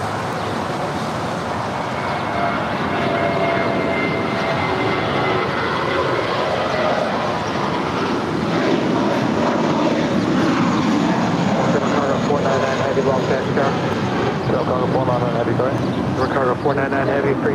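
Airliner beginning its takeoff roll on runway 25 right at Los Angeles International, a broad steady engine roar building into a sustained rumble heard from a distance, with radio and voices talking over it throughout.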